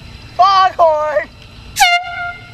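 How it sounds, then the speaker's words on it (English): A horn that has just been dipped in cold water sounds two wavering, sputtering blasts, then one loud, clear, sustained blast after a brief pause. "Foghorn!"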